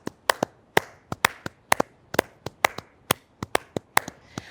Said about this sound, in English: let's give one more round of applause to all our volunteers